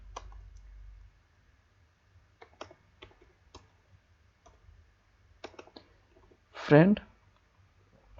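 Text typed on a computer keyboard: sparse, quiet individual key clicks scattered across a near-silent room, with one brief louder vocal sound partway through.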